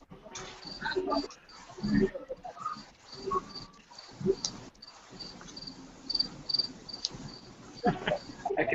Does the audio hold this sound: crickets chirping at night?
yes